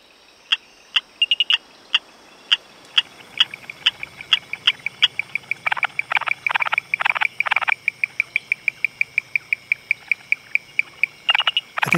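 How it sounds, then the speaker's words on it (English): A chorus of many frog species in a Sri Lankan cloud forest: sharp, repeated chirps and clicking pulses at steady and quickening rhythms, several callers overlapping and fairly close, with no other sounds. "the first thing that strikes you, I think, about a Sri Lankan cloud forest is the call of dozens of species of frogs."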